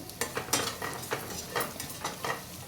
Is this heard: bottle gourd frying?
yes